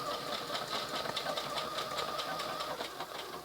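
A Singer 6800C heavy-duty sewing machine runs a decorative stitch on fabric with a steady, rapid mechanical whir and rhythmic needle clatter, close and continuous throughout with no voices.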